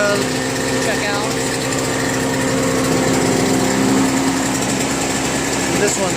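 A small gas snowblower engine runs steadily after startup, a loud close drone with a constant buzzing whine and no change in pace.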